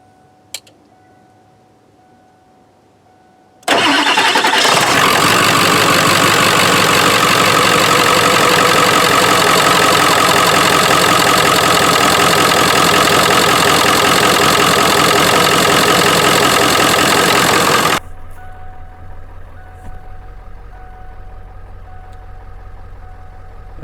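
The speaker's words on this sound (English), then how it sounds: "I'm gonna go ahead and start it up so you can hear the engine" A 1997 truck engine cranks and catches suddenly, then runs loud and steady at idle for about fourteen seconds before dropping to a much quieter, lower hum, heard close up.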